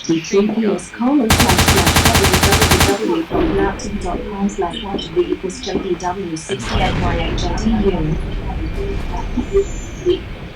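A machine gun firing in a video game lets off one sustained, loud, rapid burst lasting under two seconds, surrounded by other game sounds and a voice talking.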